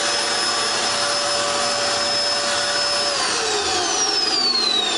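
A Dirt Devil style upright vacuum cleaner with a new belt runs steadily and loudly throughout, a constant motor whine with a rising tone toward the end.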